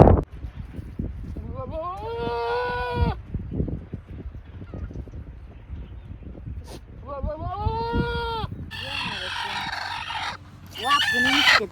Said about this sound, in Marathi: आपलं हे बोकड आहे का हे ओरडत होतं मित्रांनो मोठ्याने